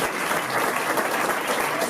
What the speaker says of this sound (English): Give yourselves a big round of applause for all the hard work that you have done